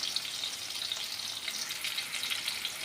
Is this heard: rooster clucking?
no